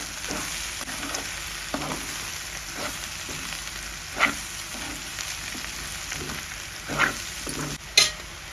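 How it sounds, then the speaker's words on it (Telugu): Cabbage fry with cumin powder being stirred in a pan: a continuous close sizzle broken by regular scraping stirs and a few sharper clinks of the spoon against the pan. "జీలకర్ర పొడి వేసి ఇలా బాగా కలిపేసుకొని"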